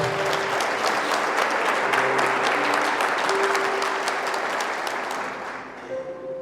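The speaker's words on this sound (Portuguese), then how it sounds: "Pode aplaudir a palavra de Deus." Church congregation breaking into sustained applause, a dense loud wash of clapping from many hands that carries on for several seconds and fades near the end, with faint voices underneath.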